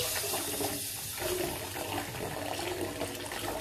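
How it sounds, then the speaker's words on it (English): Hot water pours steadily from a tap into a bathtub during a bubble bath, a continuous close rushing splash with no talking over it. "I'll put some more hot water."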